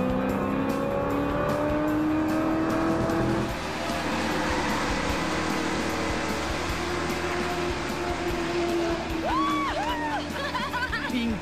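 A fast car driving a lap around a race track, its engine droning and revving steadily up close, with a high rising and falling squeal near the end and faint voices in the background.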